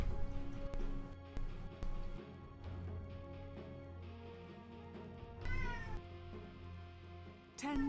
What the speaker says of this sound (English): Sorry for cat sounds.